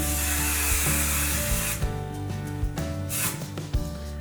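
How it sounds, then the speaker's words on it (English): Extra firm hold hairspray is sprayed onto curled hair: a long continuous hiss, then several shorter bursts, with steady background music underneath. "We're going back in with that now, the extra firm hold. We're gonna do a nice spray."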